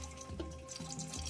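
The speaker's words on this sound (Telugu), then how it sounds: "ఆగో నీళ్ళు పడుతున్నాయి." Water runs from a tap in a village kitchen where chilli bajji fritters are being made, a steady moderate flow with faint splashing throughout and no speech over it.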